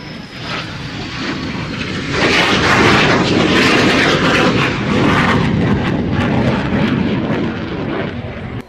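A fixed-wing airplane flying a maneuver at an air show: a loud, broad engine roar that swells after about two seconds and holds steady to the end, with no talk.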